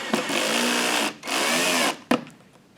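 A power driver whirs through two sustained bursts while tightening clutch bolts on a Kawasaki Z900RS motorcycle, followed by a short sharp clack; close and loud with no talking.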